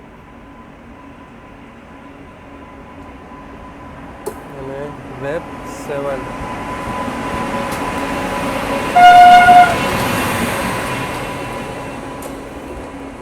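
An electric locomotive hauling the Jaisalmer–Sabarmati express 20491 near Pokaran gives a steady, rising running rumble, with a short horn toot near the end while people talk nearby.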